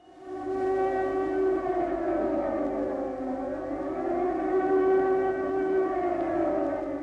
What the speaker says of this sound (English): The air raid sirens started sounding in 1940.